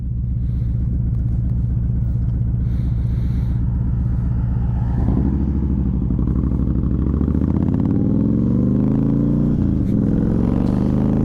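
A 2011 Honda VT1300X Fury motorcycle rides on the road, its engine a steady loud low rumble that rises in pitch as it accelerates through the gears, continuous and close throughout.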